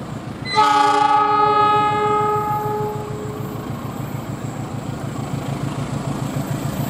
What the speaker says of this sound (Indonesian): Kereta cakep nih, teman-teman. Lokomotifnya keren.